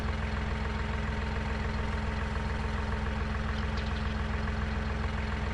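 A tractor engine idles steadily in Farming Simulator 19, a continuous low droning rumble with no talk over it.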